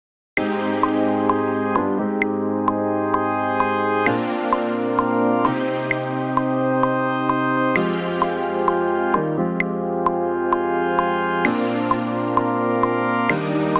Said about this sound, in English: So all together the chords sound like this.